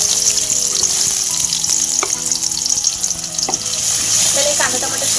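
Onion frying in hot oil in a kadhai, a loud continuous hissing sizzle with occasional clicks of a stirring spoon, close by and without voices.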